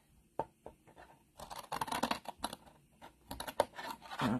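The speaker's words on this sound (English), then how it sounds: "I'm gonna use my big scissors for some of this removal" Big scissors snip through paper pieces for a scenic craft project, quiet irregular cuts and crisp clicks coming in scattered bursts, close to the listener.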